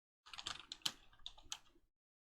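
A short, quick burst of key presses on a computer keyboard, about a dozen close, distinct clicks over under two seconds, then silence.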